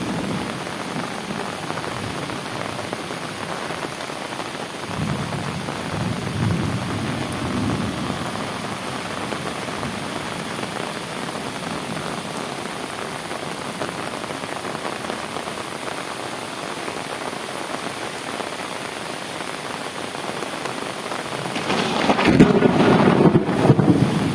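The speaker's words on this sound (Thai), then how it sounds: "ฝนตก" Heavy rain with thunder gives a constant loud hiss, with low rumbling swells and rough wind buffeting on the microphone that build toward the end.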